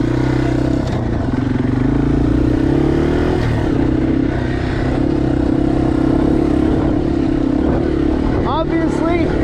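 A Yamaha TW motorcycle on fat tires rides off-road on motocross terrain, its engine droning loudly and continuously with small surges in revs and some rattling from the chassis.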